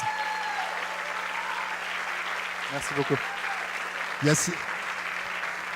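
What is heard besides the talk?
audience applause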